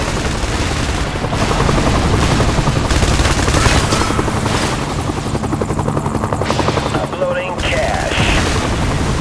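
In the video game Is Defense, an airstrike brings rapid bursts of gunfire and muffled blasts over a constant, loud helicopter rotor drone that runs throughout.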